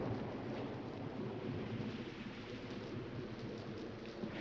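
A thunderstorm with steady rain gives a continuous low, faint hiss and rumble. No voices are heard and the level stays even throughout.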